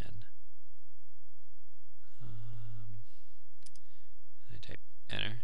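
A few sharp, close computer keyboard key clicks, ending on a press of the Enter key, as a name is typed into a PHP web form during a coding lesson; a short hum of voice sounds between the clicks.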